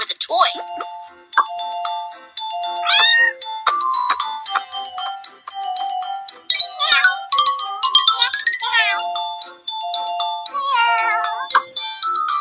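A cartoon kitten mews in short, high cries, mixed with bright chiming, tinkling music notes. The sound is busy and close, and the meows and chimes come in quick bursts throughout.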